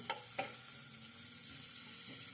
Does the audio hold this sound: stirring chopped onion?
yes